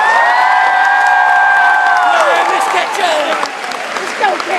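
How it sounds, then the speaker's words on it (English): Loud, close applause from a crowd of students cheering their teachers at a school, with whoops and excited shouting over the continuous clapping. "Students, clap for the teachers."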